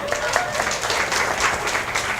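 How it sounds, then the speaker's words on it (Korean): Audience members at a sex-education class break into brief, lively applause, a close, fairly loud burst of many hands clapping that runs steadily for a couple of seconds. "여러분 박수."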